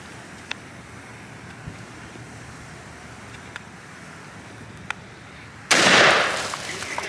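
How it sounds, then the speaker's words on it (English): A single blast from an old H&R .410 single-shot shotgun at an outdoor range, one loud sharp report near the end after quiet ambient background with faint ticks. "It's the old H&R 410 single shot shotgun."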